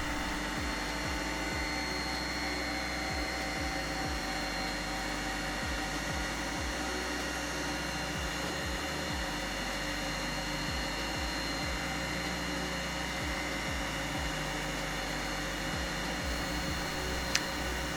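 A Lobo LH-40TC auto copy shaping machine with 1-1/4 inch spindles runs its cutters in a steady, loud, unbroken whir, with faint low thumps pulsing beneath the constant noise.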